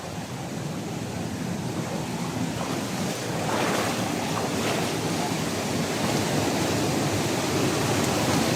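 Typhoon floodwater rushing in Mindoro, a loud continuous roar of churning current with wind buffeting the microphone, swelling slightly louder midway and staying constant.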